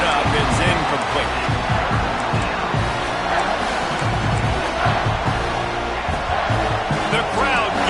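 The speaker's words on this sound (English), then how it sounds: "The crowd getting behind this defense as they try to get a stop in the red zone" A football stadium crowd roars steadily in support of the defense during a red-zone stand, a dense, loud wall of cheering beneath a commentator talking throughout.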